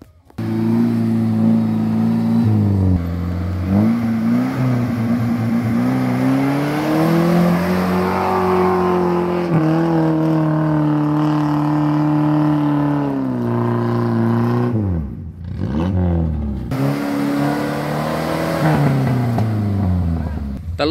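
Off-road Suzuki Vitara and Jimny engines rev hard while climbing a steep ravine slope, a loud sustained drone rising and falling with throttle, with a brief dip and a return to full revving near the end.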